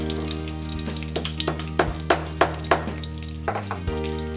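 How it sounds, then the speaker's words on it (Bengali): Whole spices, including bay leaves, a piece of cinnamon, cloves and cardamom, frying in oil for fish kalia, a crackling sizzle with a run of sharp spoon clinks against the pan, close and clear. "এবারে এই একই তেলের মধ্যে আমি 2টো তেজপাতা দিয়ে দিলাম, 1 টুকরো দারচিনি, লবঙ্গ,"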